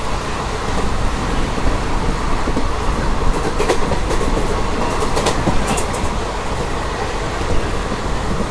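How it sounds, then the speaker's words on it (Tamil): Trivandrum–Tiruchy Intercity superfast express at Tirunelveli Junction, giving a steady, loud rail rumble with faint clicking throughout and no voices. "ஸோ நம்மளோட ட்ரெயின் இப்போ பார்த்தீங்கன்னா திருநெல்வேலி ஜங்ஷனில் தாங்க இருக்குது"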